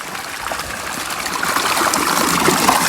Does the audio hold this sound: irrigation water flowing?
yes